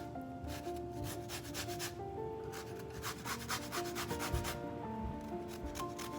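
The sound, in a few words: grating orange zest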